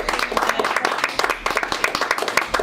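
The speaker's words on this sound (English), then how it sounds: "If you want to clap, clap." A church congregation claps for its pastors, dense continuous applause with many overlapping hand claps, loud and close, holding steady throughout.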